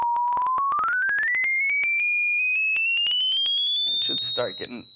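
Steady sine test tone climbing gradually through the high mid range, piercing and loud, with a voice talking over it near the end.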